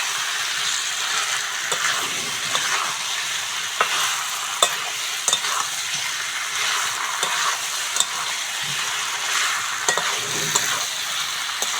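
Fried potatoes and cooked-down spice paste sizzle steadily in a pan, with a spatula scraping and stirring in scattered clicks throughout.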